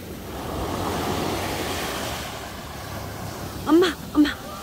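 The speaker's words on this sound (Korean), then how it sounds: "와, 파도." Ocean waves break steadily on Haeundae beach in Busan at night, with squid-fishing boat lights out at sea; the surf is a continuous wash, and a voice speaks twice near the end.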